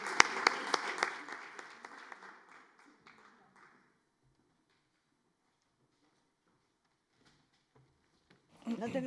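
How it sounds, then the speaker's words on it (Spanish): Audience applause greets the panelists as they are invited onto the stage for a film-industry talk at Casa América; loud clapping for about four seconds then fades, with a voice over the start. "Un aplauso para ellas"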